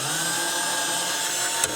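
A power drill whirs steadily while removing screws from a Nissan Maxima car dashboard during a radio install, a continuous close whine with a brief bump near the end.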